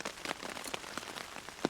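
Rain patters steadily on a tarp shelter set up with army surplus gear, a dense, soft spatter of close drops with a few slightly sharper taps standing out.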